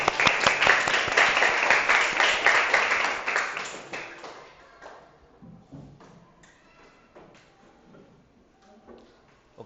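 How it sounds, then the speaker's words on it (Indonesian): A classroom of students clapping their hands together, dense and steady for about four seconds, then thinning out into a few scattered claps and taps as it dies away. "Tepuk tangan semua."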